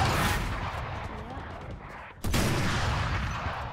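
Rapid bursts of gunfire in an online shooter video game, dense crackling shots fading slightly before a sharp loud burst restarts the volley, with players talking over it.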